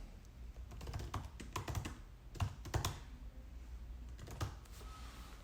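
Typing on a computer keyboard to enter a file name in a manga list application, with a run of clustered key clicks alone, near and moderately quiet with no voices.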